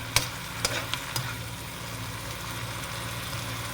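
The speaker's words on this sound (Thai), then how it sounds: "ผัดให้มันยวบยวบเฉย" Succulent greens stir-fry with plenty of oil and oyster sauce in a pan, with a steady close sizzle and a few sharp scrapes of a spatula near the start, no talk.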